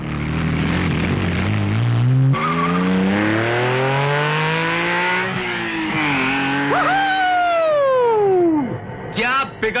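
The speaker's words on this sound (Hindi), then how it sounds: "जरा सा एक्सेलेटर दबाया हवा से बातें करने लग जाती है।" A car's engine revs loudly and pulls away fast, its pitch climbing and sweeping through gear changes, with squeal-like whines toward the end as it drives off.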